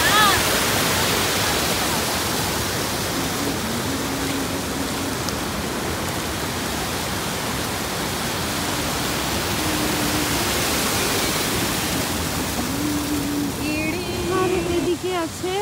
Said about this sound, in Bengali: এই যে এখান থেকে জলটা নিচে পড়ছে।